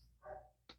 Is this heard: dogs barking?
yes